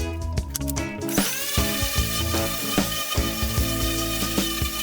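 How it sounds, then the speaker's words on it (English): A power sander whines steadily on wood slats after a brief start, its high-pitched drone running continuously with occasional rough scraping bursts. "Before I could attach the wood slats, I had to do more sanding."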